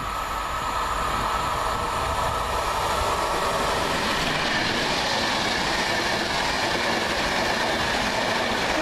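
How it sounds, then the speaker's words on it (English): A train rumbles past close by overhead, heard from under a bridge, with a loud, continuous roar and rattling wheels, a broad steady wash of noise from start to finish. "And here comes my train out of here now."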